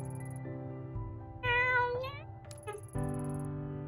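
Cat meowing in the video game Tokyo Dark, a few clear mid-pitched meows standing out over steady game background music, close and fairly loud.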